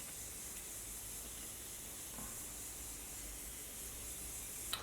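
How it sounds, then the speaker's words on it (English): Morphe Continuous setting spray misted from a bottle, a soft, continuous hiss lasting several seconds, quiet and even with no talking. "I add my Morphe continuous setting spray"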